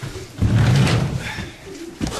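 Racing pigeons coo inside a loft, soft, low throaty calls that swell and fade in a couple of close bursts, with a faint knock nearby.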